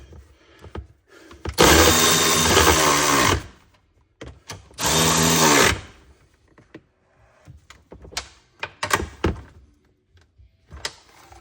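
Power drill spinning a socket to run bolts home during a lift kit install on a 2024 Subaru Crosstrek Wilderness, two loud sustained whirring bursts of about two seconds each, followed by scattered clunks and taps of hardware.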